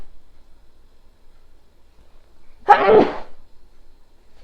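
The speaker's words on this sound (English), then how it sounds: "it's going to make me sneeze." A single sharp sneeze from a person ill with COVID-19 bursts out after a few seconds of near silence, close and fairly loud.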